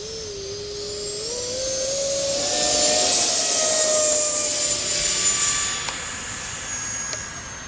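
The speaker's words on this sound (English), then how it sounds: "E-Flite and Freewing F-16, we're going to fly them together today." Two F-16 RC jets, an E-Flite and a Freewing, fly past with a loud electric ducted-fan whine that climbs in pitch and swells as they pass close, then fades slightly.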